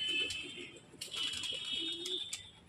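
Pigeons on a house rooftop coo softly during their morning feed. A few low, rolling coos come and go at a faint, moderate distance, with light rustling and no talking.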